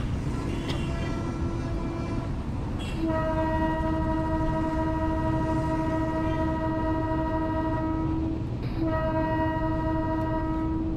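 A Chennai Beach to Tambaram fast local train in the Train Simulator (Railworks 3) game rumbles steadily along while its horn sounds two long, loud blasts, the second one shorter.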